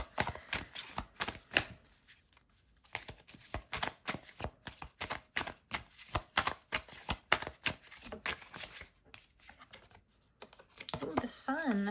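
Tarot cards being handled and shuffled close up, a long run of rapid papery riffles and flicks in uneven bursts with short pauses between them.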